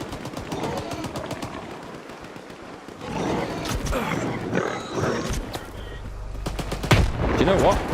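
Gunfire in the shooter game S.T.A.L.K.E.R. 2, with bursts of machine-gun fire and scattered single shots cracking in a firefight, some close and loud, mixed with grunts and game effects.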